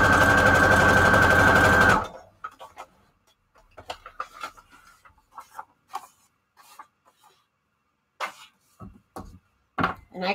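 Sewing machine running a straight stitch through journal pages, a steady loud whirring burst for about two seconds, then quieter scattered clicks and handling noises.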